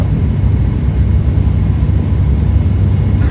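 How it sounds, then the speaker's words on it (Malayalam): A loud, steady roar of a jet engine fills the whole stretch, broad and unbroken, inside an airliner cabin descending toward Pune airport. "ഫ്ലൈറ്റ് എയർപോർട്ടിനോട് അടുത്തുകൊണ്ടിരിക്കുന്നു."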